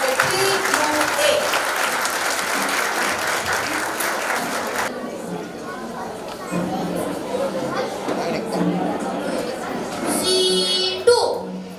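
Parents at a primary school annual function applaud after a student performance. The clapping is dense and sustained, then thins out amid crowd chatter and children's voices, and a voice breaks in near the end.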